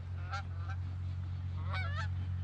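Geese honk during an early-season goose hunt, a few scattered calls coming from some distance over a steady low rumble, faint but distinct.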